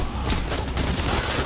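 Gunfire in the heist video game Payday: The Heist, a dense fusillade of overlapping shots crackling continuously and loudly through the whole moment, with no break in the barrage.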